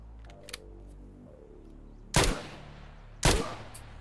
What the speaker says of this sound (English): we'll test level 3 armor against 9x21 PSGZH AP bullet